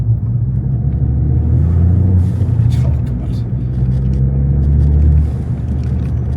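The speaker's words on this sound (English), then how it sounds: "It's burbling up now, isn't it? Just a little burble, not too intrusive." A Ford Fiesta ST with a custom cat-back exhaust idles and burbles at close range, a steady low rumble that swells slightly midway, with a voice talking over it.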